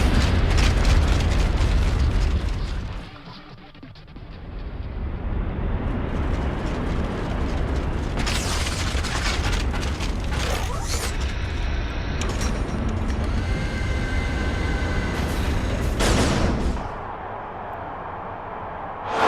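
An elevator plunging downward in the game Vanquish, a loud roaring rumble with heavy mechanical booms and bursts, a brief lull, then a sustained thunderous descent ending in a drop-off.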